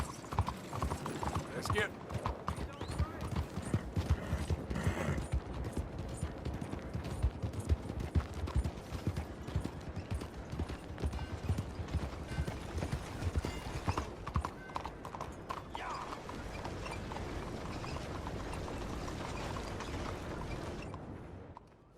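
Horse hooves clip-clopping in Red Dead Redemption 2, a steady trotting rhythm running for most of the stretch with an occasional whinny, mechanical clanks and brief gunfire, while characters talk over it before the hoofbeats fade out.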